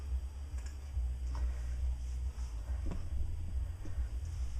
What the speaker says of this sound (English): once that starts cutting, you'll see that it'll easily cut out my image